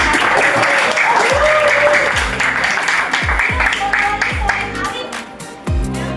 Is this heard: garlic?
no